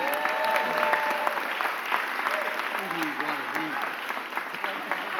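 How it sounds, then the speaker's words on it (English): Crowd at a Philadelphia mayor's press conference applauding the mayor, sustained clapping from the audience at a constant level while voices carry over it. "Can we give our mayor a real big round of applause,"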